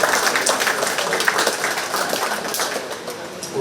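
A county fair 4-H cattle show crowd applauds the champion breeding heifer exhibitors with dense, sustained clapping that carries on steadily and tapers slightly toward the end.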